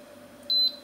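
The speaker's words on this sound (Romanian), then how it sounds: "Și am bipăit de două ori și gata, avem apiță pentru ceai." An electric kettle beeps twice once the water reaches temperature for tea, two short bright tones in quick succession over a low steady hum, close and clear.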